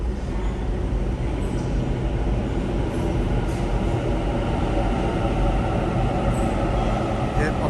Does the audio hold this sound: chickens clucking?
no